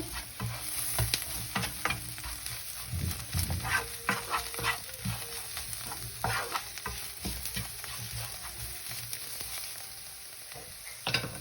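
Noodles being stirred and mixed with salt in a hot pan, with steady frying sizzle and scraping stir strokes throughout, close and moderately loud, no talking.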